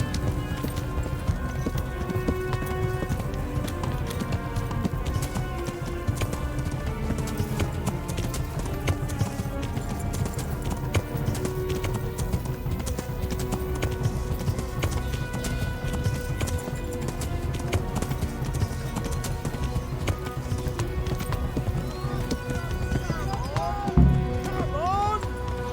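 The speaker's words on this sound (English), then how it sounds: "A very impressive ride, Henry. Truly. And on a horse from Neuhoff" Horse hooves clip-clop through a show-jumping ride, the steady hoofbeats running beneath continuous music and crowd or arena sound, with talk mixed in and a brief neigh near the end.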